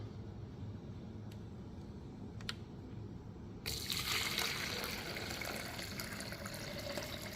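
Water poured for a lion's mane mushroom tincture, a steady broadband pouring rush that starts partway through after a quieter stretch with a couple of faint clicks, continuing close and even to the end with no talk.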